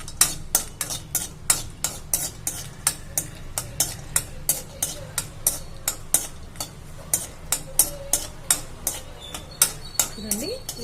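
Almonds frying in ghee for nuvvula laddu, a steady stir-fry sizzle under regular sharp spoon-on-pan clicks roughly twice a second, close and fairly loud.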